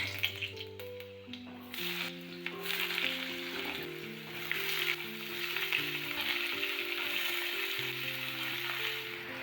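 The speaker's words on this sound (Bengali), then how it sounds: "তেলে পাঁচফোড়ন দিয়ে দিলাম।" Panch phoron spices sizzle steadily in hot oil in a kadai, a soft continuous frying hiss with faint tonal hum behind it and no talking.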